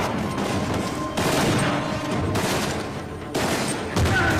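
Gunfire in the Uncharted 4: A Thief's End video game, on a Madagascar level, rattles in dense continuous bursts that hold loud throughout, with no pauses.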